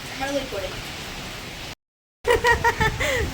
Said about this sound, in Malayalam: നല്ല മഴ, എങ്ങനെ പുറത്തേക്ക് ഇറങ്ങും?